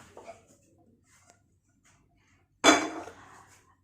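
A metal cooking pan is handled in a home kitchen, with faint small clinks early on, then one sharp, loud clatter as the pan is set down, followed by a short ringing decay.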